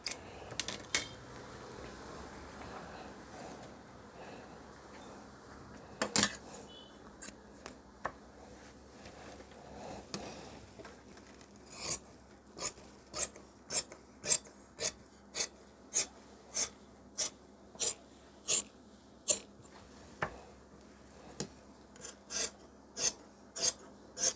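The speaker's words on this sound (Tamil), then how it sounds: "இப்போ ஃப்ரண்ட்டு வந்து மார்க் பண்ணிட்டோம் கட் பண்ணிடலாம்" Scissors cut through pant fabric at a tailoring table, scattered rustles at first, then a run of regular, close, crisp snips in an even rhythm, with no voices.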